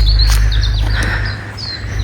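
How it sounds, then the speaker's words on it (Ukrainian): Birds chirp in a Scottish castle garden, with several bright, quick tweets close by over a low steady rumble of wind or background noise. "Ви їх чуєте? Птахів."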